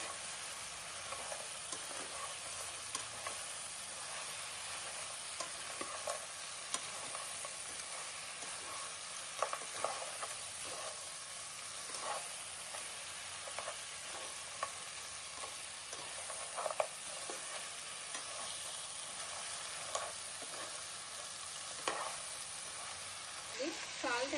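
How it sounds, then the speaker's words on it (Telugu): Crab curry with coriander powder being stirred in a pan, a steady sizzle and frying hiss running throughout with scattered scraping clicks of a spoon against the pan, under a speaking voice. "ఇది కూడా బాగా కలిపేయాలండి"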